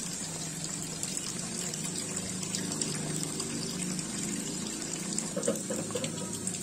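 Water is poured into a bucket of grated cassava, producing a steady, continuous gushing rush at moderate level throughout, with faint clinks and no speech.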